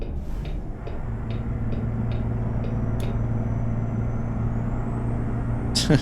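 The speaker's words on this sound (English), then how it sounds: "he slams on the brakes just to take off again" A tanker truck braking hard in American Truck Simulator: a steady engine drone with a run of regular ticking clicks and a sharp hiss at the end, close and fairly loud.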